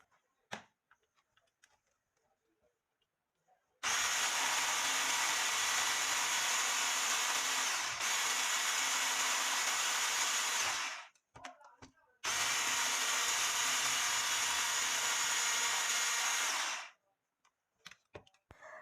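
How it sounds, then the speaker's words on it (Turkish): Electric hand whisk whipping cream with milk in a bowl, two loud sustained high-pitched whirring runs of several seconds each, separated by a brief pause, with faint clinks before and after. "çırpıcıyla kıvamı alana kadar çırpacağım arkadaşlar"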